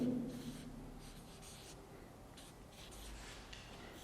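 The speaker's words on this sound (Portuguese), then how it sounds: "deixa eu pegar a caneta" A pen scratches across paper in soft, continuous strokes with brief pauses, close and quiet, with no talking over it.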